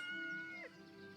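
A cat named Dusty meows once in the video game Yes, Your Grace, a short clear gliding call heard alone over a soft background tone.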